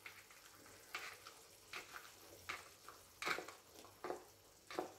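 Huitlacoche, Mexican corn smut, sautéing in a pan with diced ingredients makes a soft, low sizzle broken by repeated scraping bursts as it is stirred, fairly quiet and close, with no voices.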